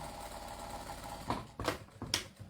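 A sewing machine hums as it stitches fabric for a jelly roll rug, a soft steady mechanical whirr that ends in a few louder clunks and knocks as the work is handled.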